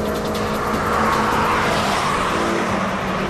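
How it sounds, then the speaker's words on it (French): A road car at high speed on a race circuit, its engine holding a loud, steady tone over the roar of the tyres, heard close and continuous without a pause, with no talking. "Le moteur chante bien, la voiture est suffisamment assez silencieuse."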